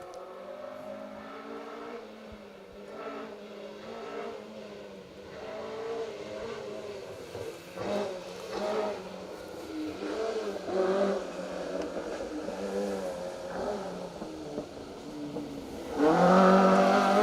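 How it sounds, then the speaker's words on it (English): A rear-wheel drive Vauxhall Astra rally car on a forest stage revs and builds, its engine note climbing through gears as it approaches, then bursting loud and close as it passes near the end. "Should be seeing the rear-wheel drive Astra of Steve Maxson and Steve Bealby through the stage."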